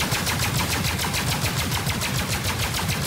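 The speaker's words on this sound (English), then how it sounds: "20 seconds of continuous fire right now." Overclocked ship weapons in Star Citizen firing without pause, a loud, dense, rapid rhythmic stream of shots that holds steady throughout with no talking.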